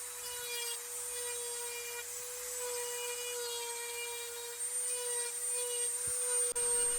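A small Dremel rotary tool fitted with a fine detail bit carves a 1x8 wooden board for a Christmas snowman picture, giving a steady high-pitched whine that holds at a constant speed throughout, near and alone.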